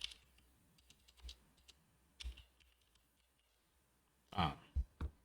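Scattered keystrokes on a computer keyboard while coding in Python, with soft irregular clicks and a quick cluster of louder taps near the end, close and fairly quiet.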